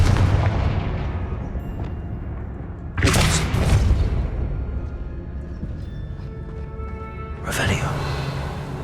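Fire spell explosions in the video game Hogwarts Legacy: two loud booming blasts a few seconds apart, each with a sharp burst and rumbling tail, over a steady low ambient drone.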